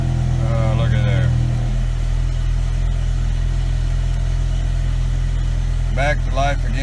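A BMW E63 M6 idles steadily up close after its passenger-side coil pack and spark plug have been replaced, with a brief blip of revs near the start and another near the end.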